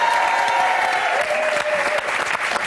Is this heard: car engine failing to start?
no